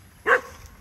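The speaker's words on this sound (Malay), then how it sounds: "Anjing dah menyalak lah." A dog near a durian orchard gives one short, sharp bark at middle distance, standing out against quiet background noise.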